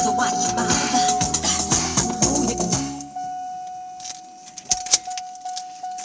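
Car keys jangle and clink close by for a few seconds, then fall quiet before a couple of sharper metallic clicks, with a steady electronic tone running underneath.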